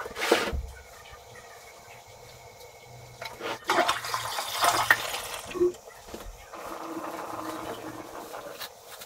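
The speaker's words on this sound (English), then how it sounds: "See how it's a weak flush like that?" A toilet tank gives a weak flush, with gurgling water and mechanical clunks from the tank's parts rising and falling over several seconds, close by with no talk.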